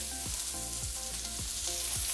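Vegetables, including pepper, sizzle loudly and continuously in hot oil, a dense crackling hiss with faint periodic scrapes from stirring.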